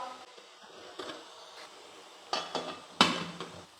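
A metal lid set down on an idli steamer pot in a home kitchen, giving a few clanking knocks of metal on metal, the loudest near the end, with quieter rattles before it and no talking.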